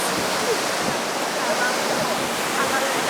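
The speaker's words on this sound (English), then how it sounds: "Waterfall" Waterfall at Aburi pouring and splashing over rocks, a steady, dense broadband roar that stays loud and unchanging throughout with no other sounds standing out.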